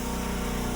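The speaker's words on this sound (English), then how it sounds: "you just seen me cut the gas off. Still hear it running in the background." Gas engine on a Countyline 27 log splitter still running after the fuel is shut off, a steady close idle drone with a fast even pulse and no talk.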